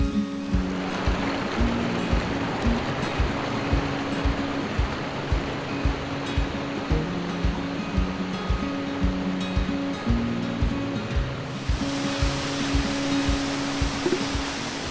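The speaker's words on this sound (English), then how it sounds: "There are a couple of things that really work for the waterfall that I have behind me right now." A large waterfall on the Isle of Skye near Eynort roars as a steady, dense wash of rushing water, continuous and loud throughout, with a faint rhythmic low thumping underneath.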